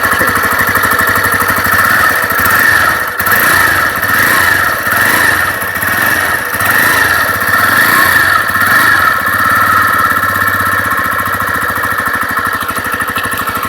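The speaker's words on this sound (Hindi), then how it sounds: "मैं हल्की सी रिविंग रेस करके भी दिखा देता हूँ।" A TVS Raider motorcycle, freshly refitted with a rebuilt engine, runs close and loud with a few light swells of throttle over a steady idle.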